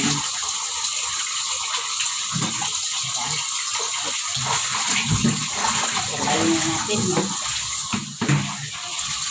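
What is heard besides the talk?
running tap water while washing dishes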